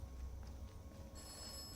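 Phone ringing in the video game Atomfall, a steady electronic ring under a low background hum, sounding continuously and faintly throughout with no talk.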